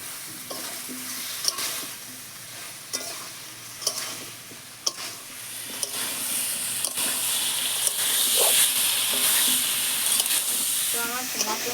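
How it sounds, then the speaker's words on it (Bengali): Green banana pieces frying with spices in a pan for a silver carp fish curry, stirred with sharp spatula scrapes at a slow rhythm over a steady sizzle that grows louder and hissier toward the end, with no talk. "তো আমার মশলার সাথে কলা ভাজা ভালো কষানো হয়ে গেছে"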